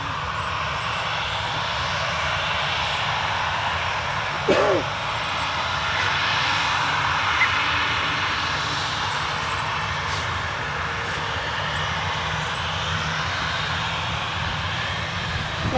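A passenger jet departing at Manchester Airport gives a steady, broad engine roar that holds at moderate loudness from start to finish, with a brief louder burst near the middle and faint voices underneath.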